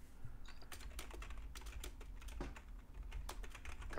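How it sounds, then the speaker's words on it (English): Rapid, irregular clicking of fingers typing on a computer keyboard, close and fairly loud, with no voices over it. "Hear me typing."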